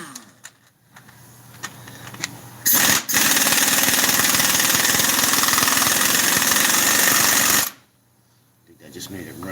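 Gas power saw cutting a big slab of steel, roaring loudly and steadily for about five seconds before stopping abruptly, with quieter engine noise and talking before and after.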